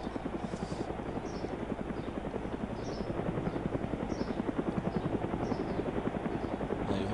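A helicopter in the DayZ video game drones steadily up close, its rotor chopping in a fast, even pulse with a constant engine whine and no talk over it.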